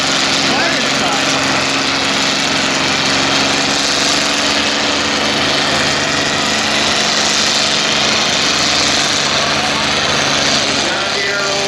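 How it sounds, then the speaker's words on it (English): A John Deere tractor roars loudly and steadily at a tractor pull benefit in New Vienna, Iowa, its engine drone filling the whole stretch close by, with an announcer's voice faintly mixed in. "John Deere rolls right on down around the corner."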